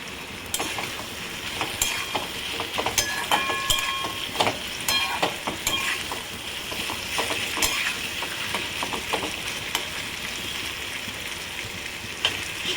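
Spiny gourd (kakrol) pieces frying in a pan with softened, melted tomato, a continuous sizzle broken by frequent sharp clinks and scrapes of stirring, close and fairly loud, with no talking.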